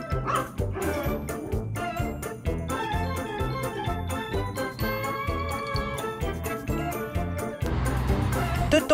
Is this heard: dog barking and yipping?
yes